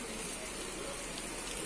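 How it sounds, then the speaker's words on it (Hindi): Heavy monsoon rain falls outside a home in one continuous, even hiss, fairly faint and steady with no breaks or distinct drops standing out. "ये बारिश देखे कितनी तेज़ तेज़ बारिश हो रही है।"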